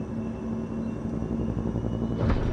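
Pelican dropship engine in Microsoft Flight Simulator as throttle is applied, a steady low hum and rumble that swells toward the end.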